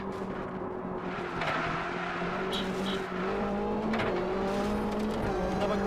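A rally car races on tarmac in the PC game Richard Burns Rally, its engine droning and revving steadily through gear changes with brief tire squeals, loud and continuous.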